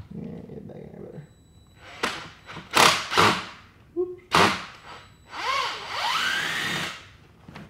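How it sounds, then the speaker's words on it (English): Bursts of a power drill whirring against wood during bedroom repairs after a roof leak, mixed with thumps and knocks, with a longer rising drill run near the end. "it's still pretty hard for me to actually get the drill straight sometimes"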